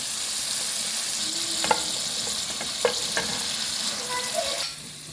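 Seekh kababs sizzle in a cooked masala with ghee, a loud, continuous frying hiss close by, broken by a few sharp clinks and scrapes of stirring, with no talking.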